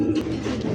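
A pigeon gives a short, close, low coo.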